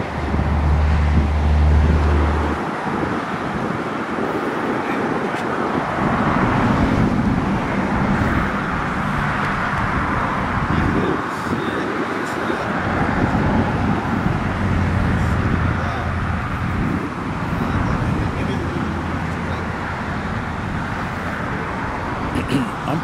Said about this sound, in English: That's the undercover vehicle right there